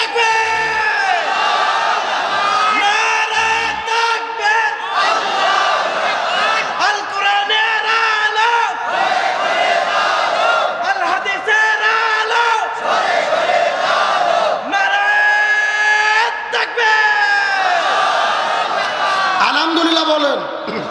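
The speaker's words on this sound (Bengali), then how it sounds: "একজন তাকবীর দেন দেখি।" A large crowd at a religious gathering chants the takbir, giving loud, massed roaring shouts repeated in rhythmic waves throughout, with voices rising and falling together.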